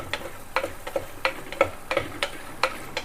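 A spoon stirs dried chillies frying in a pan, making regular light taps and scrapes about every third of a second over a faint sizzle, close and without voices.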